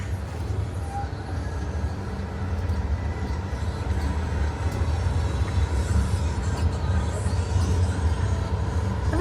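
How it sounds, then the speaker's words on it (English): Cedar Creek Cannonball amusement park train ride at Dorney Park running steadily, a continuous low rumble of wheels and cars on track throughout, close and fairly loud with no talk. "I've never been on a train so slow."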